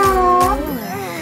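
A person's voice imitates a cat meowing: a drawn-out, wavering meow, then a shorter rising mew, close and clear, with no other sound behind it.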